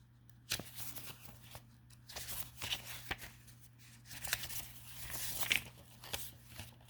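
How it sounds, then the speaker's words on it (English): Paper cards being flipped over on a table, a quiet close sequence of soft flicks, slides and papery snaps arriving irregularly over low background hum. "We'll come over here to all of our corresponding cards, flip them over."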